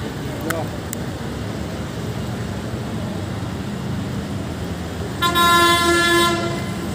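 A metro train sounds a loud, sustained horn blast for about a second over steady rumbling station ambience in Secunderabad, Hyderabad; a couple of faint clicks come earlier.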